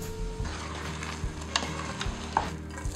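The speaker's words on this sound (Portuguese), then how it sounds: "Vai colocando aos poucos o fundo de legumes e sempre mexendo a panela." Risotto stirred in a pan on the stove with vegetable stock added a little at a time, a soft sizzle under a repeated scraping of the spoon, with occasional sharper clinks against the pan.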